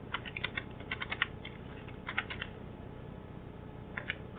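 Quick bursts of keystrokes on a computer keyboard while working in MS Word, with a few rapid clusters of crisp clicks separated by short pauses against a low background hiss.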